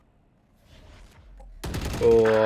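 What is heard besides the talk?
gunfire in the video game Valorant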